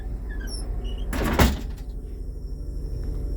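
Rear exit door on a 2008 Blue Bird All American RE school bus shutting: a brief rising squeak of the hinge, then a single solid thud, near and loud over a low engine idle.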